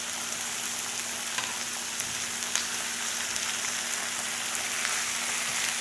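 Pork belly and ingredients stir-frying for creamy spicy noodles in a hot pan, a steady dense sizzle with scattered crackles and pops, close and continuous with no talking.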